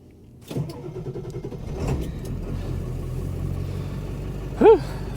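A 2001 Ford Excursion Limited with a 7.3L Powerstroke diesel starts on a cold 35-degree day, with a brief crank catching into a steady low idle rumble and a short loud chirp near the end.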